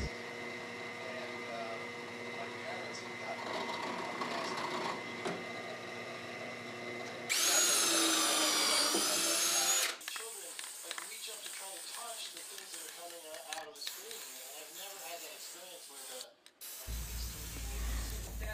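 A power drill bores holes for mounting screws during a build of a giant ant figure: a short, loud whining burst between stretches of quieter workshop noise and talking.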